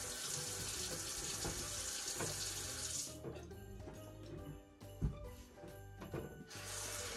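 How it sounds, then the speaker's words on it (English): Cold water runs steadily from a tap as a broad, continuous hiss, close and loud, with a few small clinks and knocks partway through. "I'll just let the cold water run for a little bit"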